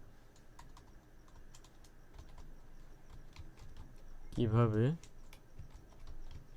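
Typing on a computer keyboard while entering a text prompt, a steady run of light clicks throughout, briefly under a short spoken word.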